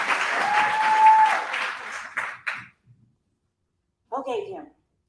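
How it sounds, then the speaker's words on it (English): An audience at a youth Toastmasters meeting claps for a speaker, a short burst of applause that fades within about two seconds. A spoken voice follows after a brief silence. "Y'all clap your hands for Cameron"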